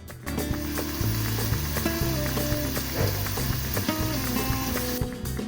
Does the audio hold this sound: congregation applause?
no